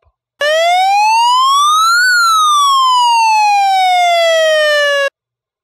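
An electronic warning tone from a LAMPHUS SoundAlert siren makes one loud, close sweep that rises over about two seconds and then glides slowly back down before cutting off, with nothing else heard.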